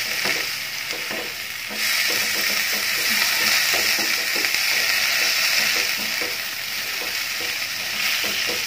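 Spinach stir-frying in a pan with a little salt gives a continuous close sizzle, with repeated scraping stirs of the spatula throughout.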